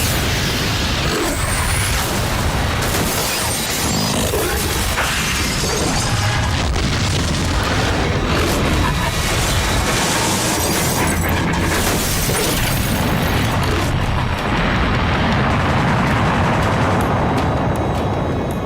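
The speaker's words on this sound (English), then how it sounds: "couple of seconds for these enormous temperatures to cause an expanding fireball" A comet impact fireball erupts as a sustained explosion effect, a loud, dense roar of booming, crackling blasts that churns and rumbles continuously for nearly twenty seconds with no voices.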